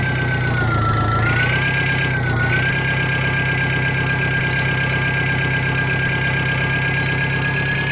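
A tractor engine pulling a cargo trolley in a farming simulator game drones steadily at a loud, constant pitch that dips briefly and recovers, with no talking.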